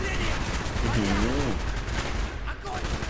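Rapid automatic gunfire in a Call of Duty Black Ops firefight near the Laos–Vietnam border, a dense continuous crackle of shots filling the clip while someone talks over it.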